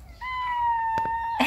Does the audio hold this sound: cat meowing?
yes